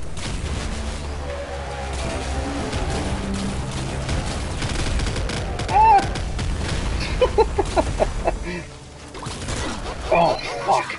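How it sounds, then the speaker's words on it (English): Rapid gunfire and blasts from the Nuclear Throne video game, with a dense, continuous barrage of shots, a sharper explosion partway through and scattered bursts afterward, mixed with game music and a player's exclamations. "Explosion got me"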